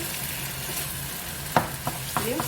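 A soft, steady sizzle of tomato paste frying in a pan for koshari, with a few brief clinks and scrapes near the end.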